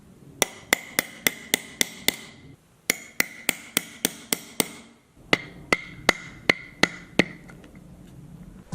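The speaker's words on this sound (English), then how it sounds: "we're just going to go ahead and hammer this down" Sharp, ringing hammer blows drive snap fasteners into a purse in three quick runs of about six or seven strikes each, close and loud with short pauses between runs.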